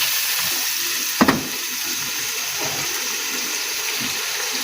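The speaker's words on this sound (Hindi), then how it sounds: "मसाले को भून लेंगे।" Ground spices with dried coriander and garam masala frying in a pan, giving a steady, loud hiss and sizzle with one brief clink of a spoon.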